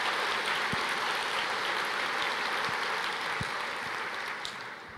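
A church congregation applauds together in a steady hiss of many hands clapping, fairly soft and distant, with a few low thumps and a gentle fade near the end.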